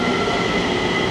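A steady rumbling roar of a Taipei MRT metro train arriving, broadband and loud, with rail noise and faint squealing throughout.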